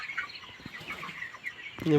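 Nineteen-day-old broiler chickens on a poultry farm at night chirp and cluck softly, a dense low chatter of many birds, with a louder call near the end.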